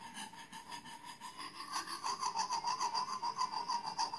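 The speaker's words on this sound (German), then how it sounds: "Ich habe mir deswegen einen feinen Schleifstein genommen." A knife blade is drawn back and forth over a fine whetstone, giving a quiet, close rasping scrape that grows into a fast, even rhythm of repeated strokes.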